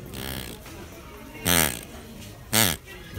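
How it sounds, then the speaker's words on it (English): Two loud, short, buzzy farts about a second apart follow a fainter rumble at the start. "Sound of farting."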